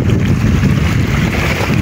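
A strong, fast current rushes past the steel remains of an old lighthouse site, a loud, dense and steady roar of churning water mixed with wind buffeting the microphone, with no voices.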